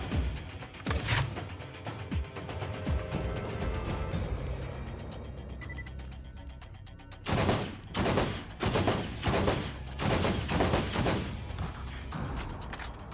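Rapid automatic gunfire from a turret in the video game Borderlands, a dense sustained clatter of shots followed by several distinct loud bursts with short gaps between them.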